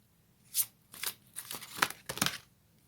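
A deck of fairy tarot cards gets shuffled up close in a quiet room, producing four or five short riffling bursts of crisp, papery rustle separated by brief pauses.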